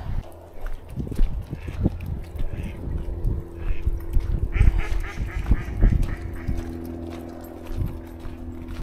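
Ducks quack repeatedly in a lively cluster nearby at Vicar Water, Nottinghamshire, with some honking calls mixed in and steady background noise outdoors.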